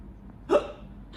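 A single short hiccup, loud and alone against a quiet background, in a children's story about a skeleton with hiccups.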